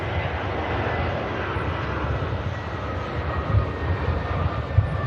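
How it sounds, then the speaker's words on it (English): EasyJet airliner inbound from Geneva touching down at Manchester Airport, a steady broad engine roar with low rumble holding level throughout, fairly distant and continuous. "EasyJet about to touch down now."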